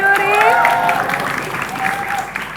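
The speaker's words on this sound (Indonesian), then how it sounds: "Tepuk tangan" Crowd applause for the jury at a high school quiz competition, a loud dense clatter of hands with a voice speaking over it at the start and again near the end.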